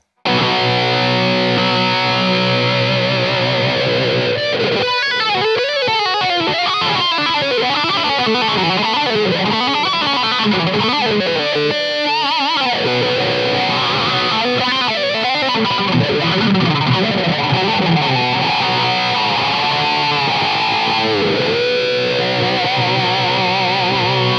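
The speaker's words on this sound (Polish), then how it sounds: "Efekt właściwie łoło z przesterowanym mocno wzmacniaczem, łoło Budda" Electric guitar played through an effects unit into a heavily overdriven Budda amplifier, a loud, dense distorted tone with shifting, warbling modulated notes sustained throughout, no talking.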